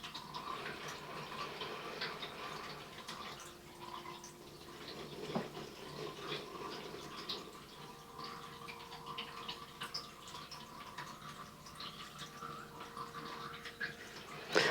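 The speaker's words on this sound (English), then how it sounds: "I just realized I left my water fountain on, so I'm wondering if you guys can hear this." Indoor water fountain left running, a steady soft trickle and splash that stays faint and continuous in a quiet room with no talking.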